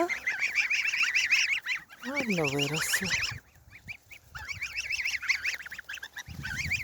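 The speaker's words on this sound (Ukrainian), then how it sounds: "Гусі, гусі, га-га-га." A flock of month-old goslings honks and cackles close by in rapid, overlapping calls that briefly pause, then resume, while a person speaks a few words among them.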